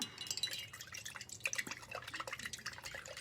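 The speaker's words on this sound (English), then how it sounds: "Rinse that out really good." A paintbrush is swished and rinsed in a container of water, with close, busy dripping and sloshing splashes that run continuously at a moderate level with no talk.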